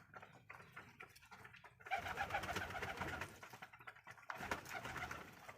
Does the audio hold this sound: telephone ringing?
no